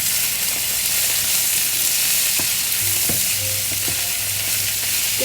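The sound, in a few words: stirring breakfast skillet sizzling in pan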